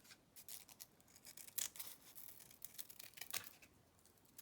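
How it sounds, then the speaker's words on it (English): Large scissors snip around crepe paper while a paper rose is being made, with faint, close crisp cutting sounds and light rustling, repeated at irregular moments. "Large scissors, and we just snip around."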